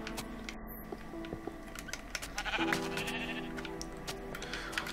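Sheep bleating in the Minecraft video game, a few short bleats over a steady background of game ambience and clicking.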